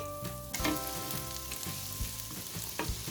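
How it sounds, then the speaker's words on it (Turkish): Steady sizzling of garlic frying in melted butter, with a few soft scrapes and clicks of stirring over the constant hiss. "Tereyağımız eriyince ilk önce sarımsağımızı ilave ediyoruz."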